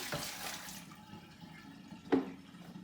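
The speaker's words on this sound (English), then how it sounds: "I just put hot water in here. I'm going to empty it out." Hot water is emptied out of a container used for fermenting kefir, a soft pouring splash trailing off, then a brief gurgling slosh, faint and close with no talk.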